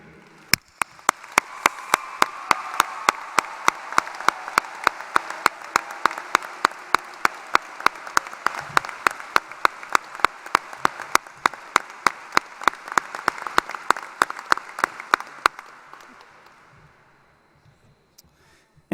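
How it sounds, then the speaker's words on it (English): A graduation ceremony audience applauds teachers and staff of a technical center, sustained clapping that builds quickly, holds for about fifteen seconds with sharp claps standing out, then fades away. "let's give them a huge round of applause, especially after this school year"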